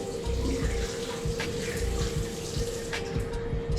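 Shower water running in an apartment bathroom in Thao Dien, Saigon, a steady close hiss of flowing water from start to finish with no talking.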